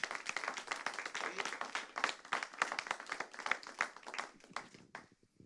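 A church congregation applauds the Lord with steady, lively clapping that fills the room for about five seconds. It ends abruptly, leaving a faint tail.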